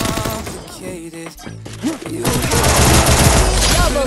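A gun in a multiplayer shooter match fires a loud, rapid burst of shots, with sharp cracks blending into continuous automatic fire after a brief stretch of game sounds and a voice talking.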